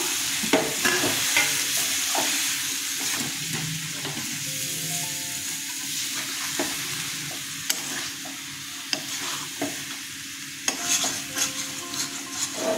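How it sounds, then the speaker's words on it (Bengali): Unfried soybean chunks cooking in salted, sugared spice masala in a pan, a continuous close sizzle with repeated scraping stirs and occasional utensil clicks. "আমি যেহেতু সয়াবিনগুলো ভাজিনি, সেই জন্য মশলার মধ্যে ভালো করে কষিয়ে নিচ্ছি"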